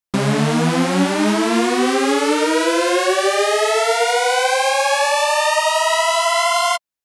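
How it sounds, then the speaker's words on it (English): A synth riser from a Zebra CM software synth, a bright buzzy tone sweeping steadily upward in pitch for nearly seven seconds, loud and alone, then cutting off abruptly. "The idea is to make the pitch of the sound rise, typically using an envelope with a long attack, to build up a feeling of increased energy."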